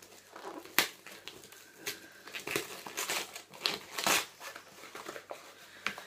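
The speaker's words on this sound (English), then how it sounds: "It's a shame to like rip open all this nice wrapping paper, but got to do it." Wrapping paper on a Lush gift set is torn and crinkled open in irregular bursts of rustling and ripping, close and fairly quiet, with no talking.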